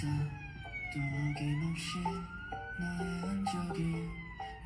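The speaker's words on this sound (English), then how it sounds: "Then you have the siren." A wailing siren sweeps up and down over a rhythmic K-pop musical backing, moderately loud and continuous.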